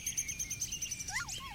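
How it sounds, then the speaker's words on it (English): A woodpecker calls outdoors with a rapid series of high, evenly spaced chirps, followed by a couple of shorter sliding notes near the end, clear and moderately close. "Look up. It's a pretty woodpecker."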